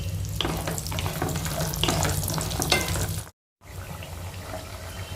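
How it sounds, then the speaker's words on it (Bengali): Lentil dumplings (bori) frying in hot mustard oil give a steady, loud sizzle with bursts of stirring. The sizzle breaks off for a moment, then resumes. "এবার বড়িগুলোকে মা ভালো করে ভেজে নেবে।"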